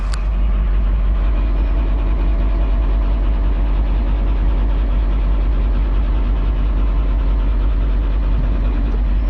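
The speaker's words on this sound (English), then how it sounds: "Now we'll run the bed down." A 1980 Ford F700 rollback truck runs steadily while its hydraulic bed lowers, a loud continuous low engine drone with no breaks.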